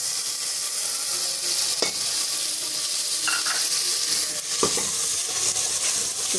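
Masala with two large tomatoes sizzles and fries in a pot for aloo gosht, a steady close hiss broken by a few scrapes and clinks of a spoon against the metal.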